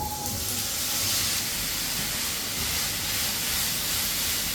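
Vegetables sizzle steadily in four spoons of hot oil as they roast in a pan for a Tamil home-cooked dish. The hiss is constant and fairly close, with no talking over it.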